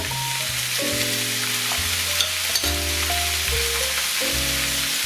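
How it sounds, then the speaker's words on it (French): Parsnips browning in a frying pan, with a steady soft sizzle and hiss running throughout beneath louder background music. "Je vais les laisser dorer un petit peu 5 minutes."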